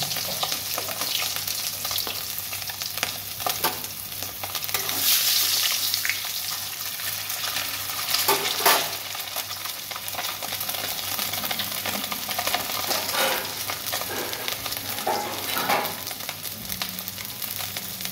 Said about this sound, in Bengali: ডিম ভাজা হয়ে গেছে, আমি তুলে নিচ্ছি।